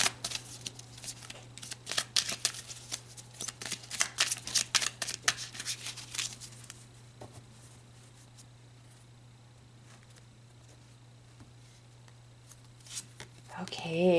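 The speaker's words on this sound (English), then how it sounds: "Let's pull another card." A deck of oracle cards is shuffled in quick, crisp riffling bursts for about six seconds, then the card sounds give way to quiet handling and a low steady hum.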